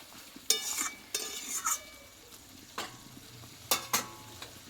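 Chicken sautéing with spices in a pan, quiet background sizzle broken by a handful of sharp scraping stirs and spatula knocks at uneven intervals, close and fairly soft.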